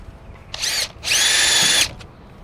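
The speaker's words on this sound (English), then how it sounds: "go ahead and pilot drill my first hole" A power drill whirs in two bursts while drilling a pilot hole in a vehicle frame, a short spin-up and then a longer steady high-pitched run, close and loud.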